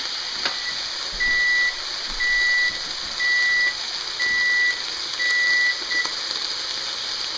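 A kitchen timer beeps while venison backstrap cooks, sounding five evenly spaced, sustained high tones and a brief sixth, clear and fairly close over a steady background hiss, with no talking.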